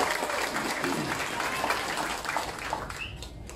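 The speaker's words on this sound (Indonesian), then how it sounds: "boleh tepuk tangan untuk semua" Crowd applause at a political rally rises from a large audience, a broad continuous clapping wash with some voices mixed in, fading near the end.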